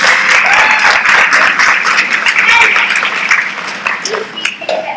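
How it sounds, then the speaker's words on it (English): An audience applauds the stage crew at a fan fiction theatre show: dense, steady clapping from a crowd that carries on for several seconds before thinning out toward the end. "Let's give our stage crew a round of applause."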